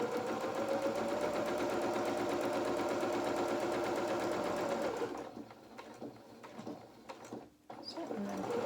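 A sewing machine stitches a baby bib in a fast, steady whirring run close by, then slows and stops partway through, followed by a few short bursts and reverse stitches.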